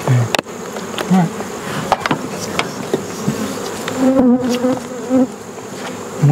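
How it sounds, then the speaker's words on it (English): Dense, steady buzzing of many honeybees crowding around a feeding bucket of sugar syrup close by, a continuous droning hum with occasional louder passes near the ear. "the bees are trying to get in it as fast as you fill it"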